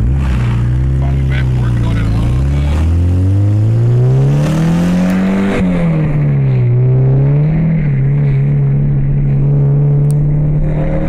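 A 1998 Dodge Neon with a swapped-in 2.4 engine revs up and shifts down, its engine note climbing and falling in pitch across the whole stretch, loud and close, with a strong steady drone throughout.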